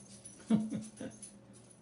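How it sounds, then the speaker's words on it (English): A pet dog glad to see its owners return home gives a few soft, short whimpers and whines in quick succession, close and quiet. "our dog was glad to see us"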